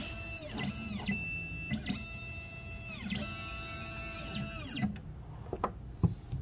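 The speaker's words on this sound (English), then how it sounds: "Now, here's what the key machine's doing." An Xhorse Dolphin XP005 key cutting machine runs its cutting calibration, giving repeated whining motor sweeps that rise and fall in pitch roughly every 1.3 seconds, with small clicks and clacks between, close and steady.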